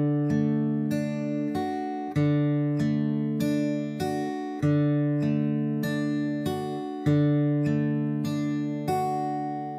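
Acoustic guitar fingerpicking an accompaniment pattern, a thumb bass note followed by three fingers, repeated steadily over sustained chords, close and clear with no talking.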